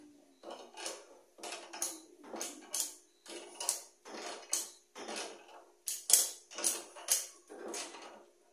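A spring compressor is wound down on a Renault Logan shock absorber, giving about a dozen short bursts of metallic ratcheting clicks at a steady rhythm, close and fairly quiet.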